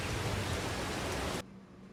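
Steady rain falls in the video game Farming Simulator 22, a dense, even hiss that cuts off sharply near the end and leaves only a faint low hum.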